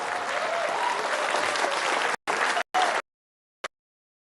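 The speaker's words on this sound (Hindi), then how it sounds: "एक बार खड़े होकर जरा गर्मजोशी से ताली बजा दीजिए" Audience at a stage event gives a warm standing ovation, loud dense clapping for about three seconds before it cuts off, then a brief stray clap.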